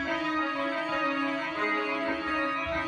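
Trap beat made in FL Studio with its low end cut too far, leaving a thin, squashed, bright sustained mix with little bass weight, steady and loud throughout without any talking.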